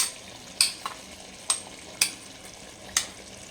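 Grated coconut stirred into a Kerala-style chicken curry in a pan, giving a few distinct spoon scrapes and clinks spaced about half a second to a second apart over a soft background.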